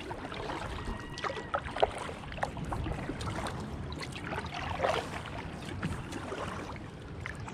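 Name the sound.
kayak paddling on the River Ouse in York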